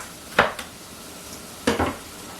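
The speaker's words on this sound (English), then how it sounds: "I'm just going to let those onions cook for just a little bit" Chopped onions cooking in a pan, with two short bursts of stirring and utensil clatter against the pan over a quiet background.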